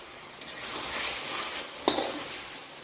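Mutton is stirred in a sizzling pan with Kashmiri chili powder, giving a steady, close frying hiss broken by a few scraping strokes and one sharp clink of the utensil.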